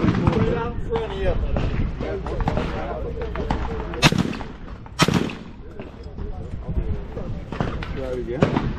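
A Browning A5 20 gauge shotgun fires target loads outdoors: two sharp, loud blasts a second apart stand out amid near, ongoing conversation among several people.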